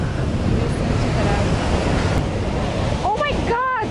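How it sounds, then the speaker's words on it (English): Gusty wind roars across the microphone by the shore, a constant loud rush with surf beneath, and a voice briefly calls out near the end. "Yeah, getting windy, actually."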